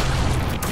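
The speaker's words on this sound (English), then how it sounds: "he is just exploding himself" A brief, dense boom from an explosion in Evil Dead: The Game fills under a second, loud and broadband with a heavy low rumble and no voices.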